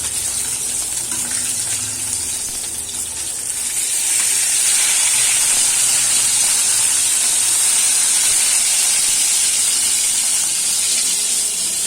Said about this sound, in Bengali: এই যে মাছ ভাজা হচ্ছে আজকে